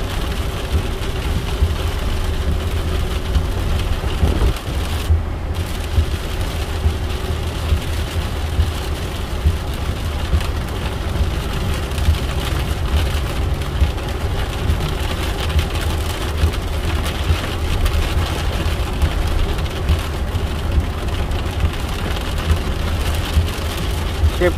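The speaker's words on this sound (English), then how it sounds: "Getting hit by these walls of rain." Steady, dense rain from a pop-up storm in Southern Alberta drums on a moving car body throughout, with a low engine rumble underneath and no clear speech.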